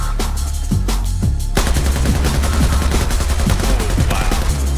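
Dense automatic gunfire from Battlefield 4, with rapid overlapping bursts and single shots, loud and continuous throughout amid battle noise.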